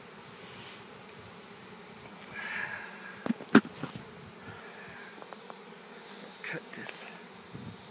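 Honey bees from a swarm being caught on a porch in August hum softly as a steady background drone, with a few sharp knocks and rustles near the middle; a voice speaks briefly.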